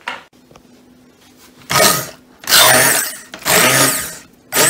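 Cooked pumpkin being mixed into juice with a hand blender, several loud whirring bursts of a few seconds each, separated by short pauses with faint clinks.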